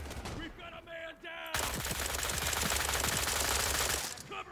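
SIG submachine gun in the shooter World War 3, a sustained rapid burst of close automatic fire after a few quieter scattered sounds, with no talk.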